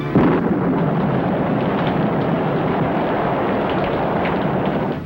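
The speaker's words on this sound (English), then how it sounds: "Down came a thundering torrent of rain." A cartoon sound effect of a thundering torrent of rain, a loud, dense roar of downpour mixed with rumbling that holds steady for several seconds, with no voices.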